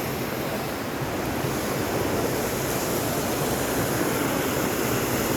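Munzur waterfall on the Munzur River in Tunceli sends out a steady, loud rush of falling water, a continuous broadband roar that stays even from start to finish with no voices.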